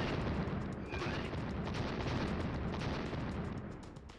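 Dense, continuous rumbling blasts and booms from remote-controlled bomb combinations in the PS1 game Trap Gunner, loud and sustained with no clear gaps between explosions.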